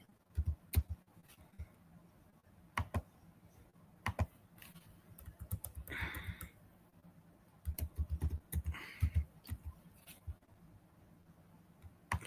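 A name is typed on a computer keyboard in bursts of quiet, close key clicks separated by pauses, with a couple of longer rattling runs and no talking.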